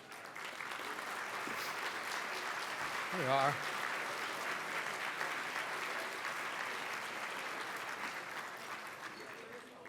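Audience applause at a keynote lunch as young professionals stand, steady sustained clapping filling the room, with a brief spoken remark over it.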